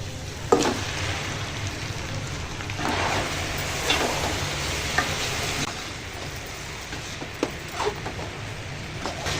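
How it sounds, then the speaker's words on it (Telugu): Marinated chicken frying in oil with onion masala over high flame, a steady loud sizzle with scattered stirring scrapes and clinks of a spoon against the pan, no talking. "ఇప్పుడు మనం దీంట్లో మ్యాగ్నేషన్ చేసి పెట్టుకున్న చికెన్ వేసేసుకోవాలి"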